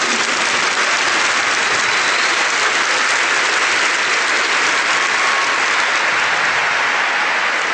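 A church congregation claps loudly and continuously for nearly eight seconds, a dense, even wash of many hands with no voices standing out.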